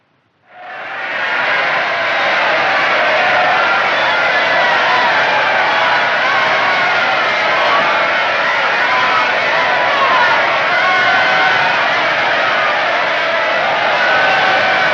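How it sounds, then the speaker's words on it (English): A large crowd murmurs and stirs on a street in 1830s Illinois, waiting for young Abe Lincoln. The sound is a steady, dense, close wash of many voices that swells in after a quiet first moment and holds loud for the whole stretch. "The crowd's waiting."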